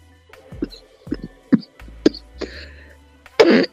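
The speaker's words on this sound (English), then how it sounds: "I cannot even cough in peace." A person coughs in a series of sharp, close bursts, roughly one every half second, followed by a louder, harsher cough at the end.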